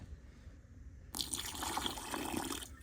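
Water suddenly starts pouring into a bee feed mix in a steady, splashing stream after a quiet moment, close and fairly loud, then cuts off near the end.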